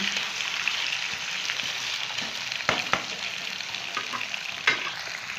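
Potato pieces sizzle and crackle steadily in hot oil in a kadai, a continuous frying hiss broken by a few sharp stirring clicks and scrapes.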